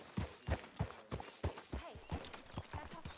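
Horse hooves clip-clop at a steady walking rhythm in Red Dead Redemption 2, the horse a healthy-looking rare mount, with close, repeated hoof strikes running under the ambient game audio.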